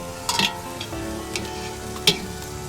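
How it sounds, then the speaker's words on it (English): Ground bison meat browns in a pan over low heat, giving a soft, steady crackle broken by a few sharper scrapes and clicks of stirring. "while the bison is browning up, it should take about 10-15 minutes. Heat's kind of low."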